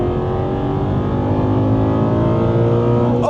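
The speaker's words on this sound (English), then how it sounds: "Hearing a V8 sing like that" An Aston Martin V8 Vantage engine revs hard in a loud, close, sustained roar, with its pitch climbing steadily and no voices over it.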